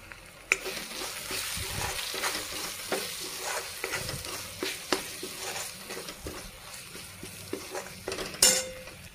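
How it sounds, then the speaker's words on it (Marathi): Dried coconut fries in a pan while being stirred, a quiet sizzle under frequent scraping strokes and metal utensil clinks against the pan, close and without speech. "आता मी सुकं खोबरं टाकून घेते।"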